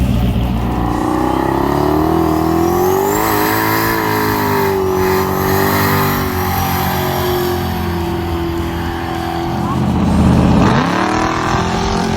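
A modified street van's engine revving during a ride-along, loud and close from inside, the pitch climbing and holding, easing off, then surging again near the end over steady road rumble.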